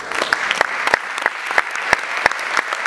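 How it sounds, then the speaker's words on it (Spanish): An audience at a short film festival applauds a speaker, a fairly sparse crowd with individual sharp claps standing out in a steady rhythm, close and loud. "vamos a darle un fuerte aplauso a Elías González."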